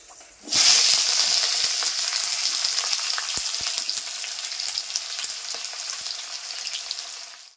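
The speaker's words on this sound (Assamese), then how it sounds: "এক দুই মিনিট পিঁয়াজটো এনেকৈ ভাজি কিনে ৰঙা ৰঙা হ'ব" Onions hit hot oil with panch phoron and immediately fry with a loud, continuous sizzling hiss, interspersed with faint crackles and pops, lasting steadily without any voices.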